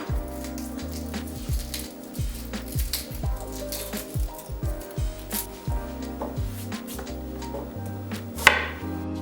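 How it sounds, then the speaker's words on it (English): A knife chops a peeled pearl onion in a home kitchen, crisp, close strikes landing in quick uneven bursts with brief pauses between runs. "let's peel and chop this pearl onion"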